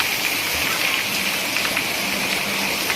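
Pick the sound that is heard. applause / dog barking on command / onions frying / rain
rain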